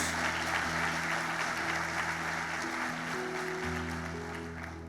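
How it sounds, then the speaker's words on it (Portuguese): Church congregation applauding during a Portuguese-language worship service, a steady wash of clapping that fades slightly toward the end, with sustained organ or keyboard chords underneath. "Aplauda Jesus por isso."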